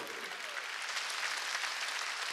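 Congregation applauding at a church prayer service: a steady wash of many hands clapping, moderately faint and continuous over a couple of seconds, no voices.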